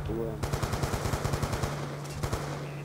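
Rapid bursts of automatic gunfire from a video game rattle in a quick regular rhythm over a steady hum, fairly close, then a few scattered shots follow.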